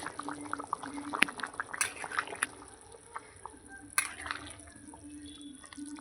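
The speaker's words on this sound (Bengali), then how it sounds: "দেখুন কি সুন্দর ফুটছে" Meat and potato curry bubbling in a kadai as the lid is lifted, giving soft, faint popping and dripping sounds close by, with a few sharper clicks of the lid.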